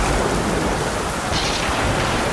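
Heavy rain in a Hindi devotional stage drama pours down as a dense, loud, continuous hiss with no pauses or voices.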